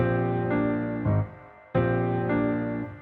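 Piano chords made in FL Studio sustain and change in a slow progression, with a brief gap of near silence before the next full chord rings out.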